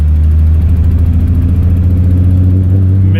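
A 1995 Ford Thunderbird SC engine runs under load with a missing, bucking, surging fault, giving a loud, low droning hum with a fast uneven pulsing throb that wavers in pitch, close and continuous.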